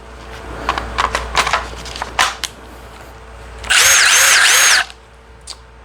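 DeWalt DCF860 impact driver on a fully charged 12 Ah DeWalt battery, heard as one loud sustained burst of about a second after several short clunks and handling knocks, with no talk.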